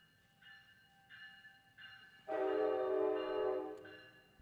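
Train passing by with its horn sounding, a few short horn toots followed by a long loud blast, heard at moderate distance with no talking.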